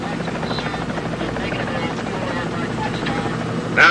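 A helicopter's steady rotor thrum fills the clip at close range aboard a ship, with a voice speaking over the engine noise.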